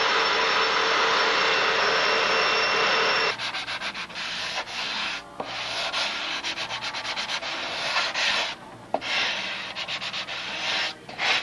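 Close, loud sanding: a harsh continuous rasp at first, then rhythmic back-and-forth scrubbing strokes with brief pauses.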